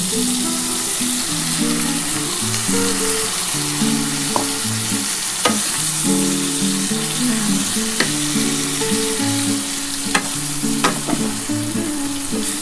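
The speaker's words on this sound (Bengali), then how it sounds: "আমি এই পোস্তর জলটা দিয়ে দিচ্ছি" Poppy seed water poured into a hot pan sizzles loudly and steadily, a continuous close frying hiss with faint stirring scrapes and clinks throughout, no voices.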